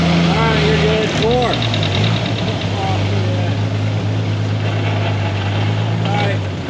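A Jeep XJ with the 4.0 L inline-six runs under throttle and shifts through its gears, a loud, close engine drone whose pitch rises and drops at each shift while people talk over it.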